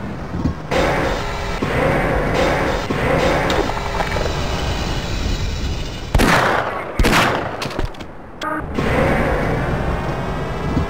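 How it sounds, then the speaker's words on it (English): Grenades explode in Half-Life amid rapid gunfire, with dense crackling bursts and several loud, sharp blasts clustered in the middle, followed by more sustained shooting. "Someone's firing grenades at me."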